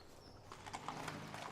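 A horse walks at a slow pace, its hooves clopping in a soft, uneven rhythm at moderate distance, fairly quiet and without speech.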